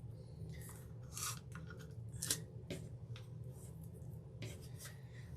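Dry scraping of scissor blades along the edge of a wooden wreath cutout, a series of short rasping strokes over a low steady hum, close and fairly quiet.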